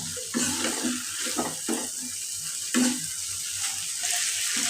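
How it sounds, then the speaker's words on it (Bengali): Food is sautéed in a pan during home cooking, with a continuous sizzle and intermittent scraping stirs close by, alone without talk. "ভেজে আমি এটা ভালোভাবে কষিয়ে নিচ্ছি"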